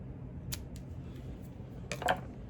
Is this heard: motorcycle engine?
no